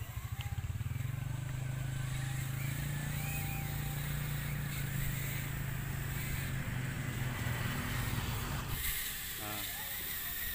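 Small Rajawali whoop drone flying outdoors, a steady buzzing whine with a low hum that holds for most of the stretch, then drops and changes near the end.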